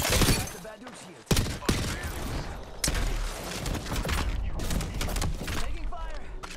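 Gunfire in a shooter video game cracks in sharp, loud bursts and rapid volleys, with heavy impacts and clattering mechanical sounds packed close together and voices mixed in.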